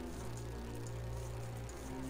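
Steady insect buzzing of a bee in the adventure game Grim Fandango, set among sea bees, a continuous drone with a low hum underneath, close and even throughout with no talk.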